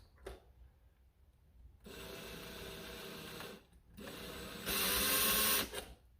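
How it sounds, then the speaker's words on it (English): A power drill bores slowly into a Nerf Rival Forerunner plastic blaster in short bursts, a close whirring grind that starts, pauses, then ends with a louder, harsher stretch. "I'm going to go pretty slow because I don't need to drill really far in"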